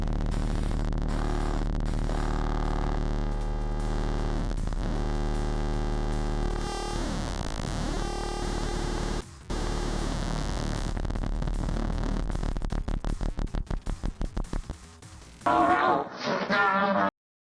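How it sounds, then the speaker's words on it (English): An analog synthesizer drones and sweeps as one oscillator rhythmically opens and closes its filter, producing buzzy, pulsing, shifting tones that grow choppier and glitchy toward the end, loud and up close. "this oscillator down here is opening and closing this filter however many times"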